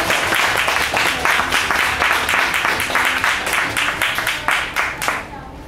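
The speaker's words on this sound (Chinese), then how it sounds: "请大家掌声鼓励" Applause from the audience at a Taichung Harbor Southeast Rotary Club Father's Day meeting, a dense, steady clapping that fills the whole stretch at close range and thins out abruptly at the end.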